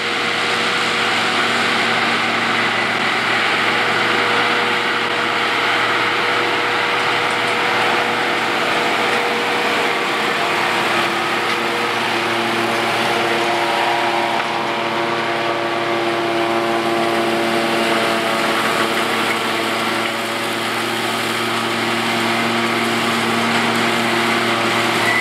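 Tractors, a BELARUS-952.3, a ZETOR 4135F and a KIROVETS K-4, run in a field during haylage harvest, producing a steady, loud engine drone with a droning whine that holds for the whole stretch without pause or voices.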